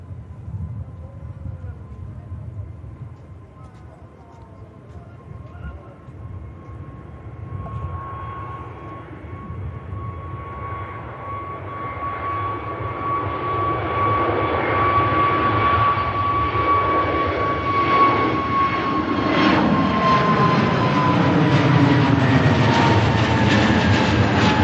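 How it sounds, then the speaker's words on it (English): A KLM Neo airliner from Amsterdam Schiphol approaches Manchester Airport, its engine roar and whine growing steadily louder and nearer over the clip, ending in a broad, sustained rumble. "Here is the KLM Neo from Amsterdam Schiphol"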